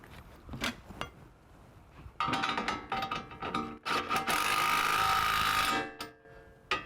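A ratchet spins nuts down onto a car's brake line bracket, with short bursts of clicking that build into a longer continuous run before stopping, close and fairly quiet.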